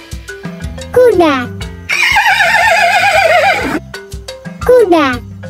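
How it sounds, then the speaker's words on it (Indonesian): A horse gives a loud, close whinny, a long wavering neigh in the middle framed by shorter rising calls before and after, heard on its own without talk. "Kuda."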